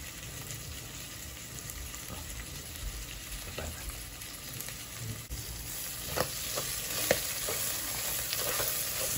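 Basil sizzles steadily as it is stir-fried in a pan, with a spatula scraping and clacking intermittently against the metal close by.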